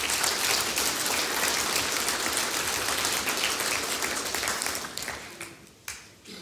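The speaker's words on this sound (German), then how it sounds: "einen kleinen Applaus" Church congregation applause for a speaker, a dense, steady patter of many hands, fairly soft and slightly distant, thinning and tapering away over the last second or so.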